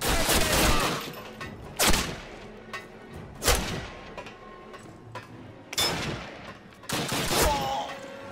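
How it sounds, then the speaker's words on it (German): Call of Duty gunfire: a string of loud, sharp shots and bursts spaced a second or two apart, each with a short echoing tail, over a low battlefield rumble. "Von wo schießt der Mann?"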